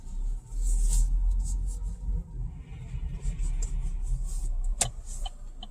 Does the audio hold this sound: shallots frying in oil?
no